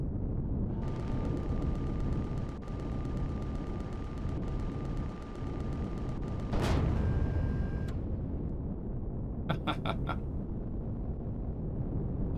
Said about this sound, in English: back to Gatling guns.